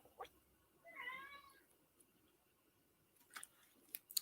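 A cat meows to be let outside, one clear drawn-out meow in a quiet room, followed by a few faint clicks and knocks.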